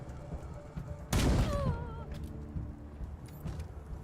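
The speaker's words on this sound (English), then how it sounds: "She's got a good shot on Isabella" Gunfire in the video game Wasteland 3: one loud, sharp shot burst with a rumbling tail and a whining ricochet-like trail, set against a steady game ambience.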